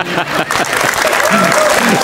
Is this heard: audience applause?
yes